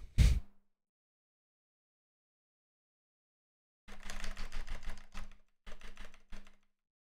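Computer keyboard typing comes in two bursts, a short click followed by silence, then a cluster of rapid keystrokes in quick runs, fairly close and quiet, with no talking.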